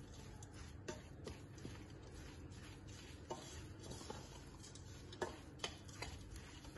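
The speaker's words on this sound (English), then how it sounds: "there is plenty when you mix it and mix it and mix it" Oats being stirred into a sticky flapjack syrup mixture make faint, steady scraping and soft ticking clicks, with a few sharper taps against the bowl.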